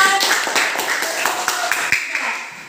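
A classroom group claps in a quick, even rhythm of many hand claps, with children's voices talking over and around the clapping.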